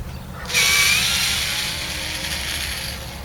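A power tool whirs steadily as it backs quarter-inch bolts out of an exterior range vent cover on a house, starting abruptly after a brief quiet moment and holding a continuous high buzzing drone.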